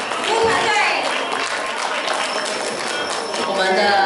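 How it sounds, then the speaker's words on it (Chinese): An audience at a reading club Christmas party applauds the hardworking service team, a dense, even wash of clapping that carries on steadily without pause. "请大家再热情掌声给我们辛苦的 服务团队"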